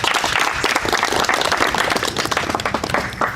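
Audience applause at a live debate on education and politics: dense, steady clapping from a crowd fills the whole stretch, loud and close, with no talk standing out.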